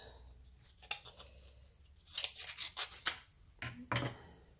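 Scissors snipping through card while making a star-shaped Christmas decoration, several separate short cuts in two bursts, close and fairly quiet, with no talking.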